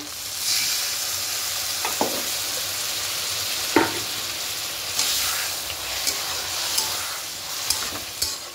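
Spice paste for a fish shukto sizzles steadily in a pan, with occasional scraping clacks of a spoon stirring it every second or so, close and fairly loud.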